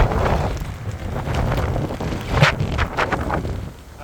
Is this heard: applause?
no